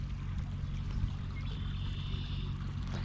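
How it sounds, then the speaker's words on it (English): Water pouring and rushing through a deep trout pool at a fishing spot, a steady broadband wash with a low rumbling current running throughout, close and continuous with no voices. "that water's coming in from here, going out there"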